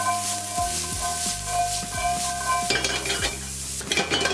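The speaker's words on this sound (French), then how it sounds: "on va faire revenir les navets et le céleri branche" Turnips and celery sizzle in olive oil in a pan while being stirred, with steady frying and rhythmic scraping strokes repeating throughout, close and clear.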